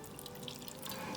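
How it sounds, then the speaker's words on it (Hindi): Water poured from a cup into a pot of jumbo mussels being cooked Belgian style, a steady close splashing pour that lasts about a second. "थोड़ा सा पानी ऐड करना है, आधे कप के करीब।"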